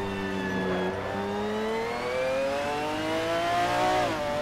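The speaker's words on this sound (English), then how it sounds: "the engine is sounding a little bit more lazy" A damaged McLaren F1 GTR racing engine in Assetto Corsa drones at steady high revs with a tonal whine that gradually climbs in pitch, alone and with no talk.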